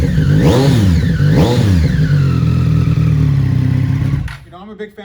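Kawasaki motorcycle engine with a Two Brothers carbon exhaust, loud and close, rising and falling through two sharp revs before settling into a steady idle, then cutting off near the end. A voice speaks briefly over it.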